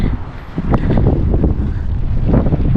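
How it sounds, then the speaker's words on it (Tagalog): Strong, cold wind in Finland buffets the microphone in heavy, uneven gusts, producing a loud, rough roar throughout. "lakas pa ng hangin"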